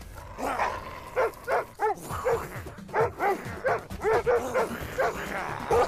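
A man imitates a dog with his voice, giving a run of short, rhythmic barks and yips that repeat steadily through the stretch, close and fairly loud, in a Jackie Chan action film.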